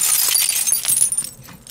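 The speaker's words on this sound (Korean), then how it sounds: "유리창 깨지는 소리 개찰지다" Window glass shattering in the battle royale game PUBG: a bright crash with tinkling shards that trails off into scattered clinks within about a second and a half, alone without speech.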